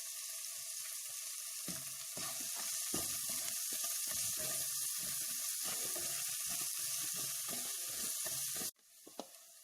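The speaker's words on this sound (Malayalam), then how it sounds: "ഇനി ഈ നെയ്യിലേക്ക് തന്നെ നമുക്ക് അരിഞ്ഞു വെച്ചിരിക്കുന്ന വെജിറ്റബിൾസ് എല്ലാം ചേർത്ത് കൊടുക്കാം." Chopped vegetables such as beans and carrot frying in hot ghee in a pan, a steady close hiss and sizzle throughout that cuts off sharply near the end, with no talk.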